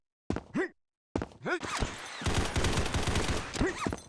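Rapid bursts of gunfire from the shooter video game Combat Master, with a few short volleys and then a long sustained automatic stream, loud and close, alongside muffled in-game thuds.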